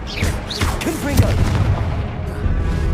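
Booming blast of the Confringo fire curse in the Hogwarts Legacy video game, a dense continuous roar of explosive impacts with game effects layered over it.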